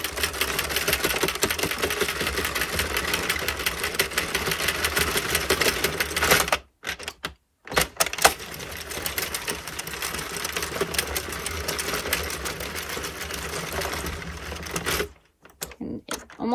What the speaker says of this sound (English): we're going to continue to knit until it falls right off the machine